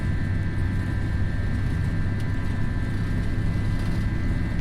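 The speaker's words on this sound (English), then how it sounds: "That looks like short takeoff run." Airbus A321 jet engines at takeoff thrust during the takeoff roll in a flight simulator: a steady, loud low roar with a constant whine, continuous and unbroken, no voices.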